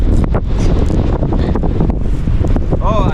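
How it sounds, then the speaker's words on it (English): Strong wind buffets the microphone in loud, continuous roaring gusts outdoors in Ecuador, with a voice faintly heard beneath the rumble near the end. "Very windy."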